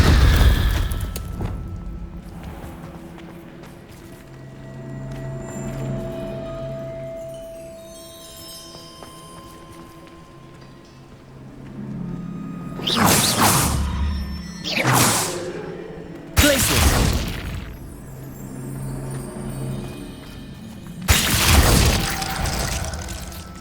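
Spells such as Glacius and Confringo cast in the video game Hogwarts Legacy, heard as several sharp whooshing blasts with booming, shattering impacts in the latter half, following a quieter stretch of low ambient game sound.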